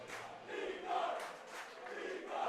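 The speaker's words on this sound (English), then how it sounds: "I'm not sure I know what they're cheering." A hockey rink crowd cheers and chants in rising and falling surges, distant and fairly faint, with no talk over it.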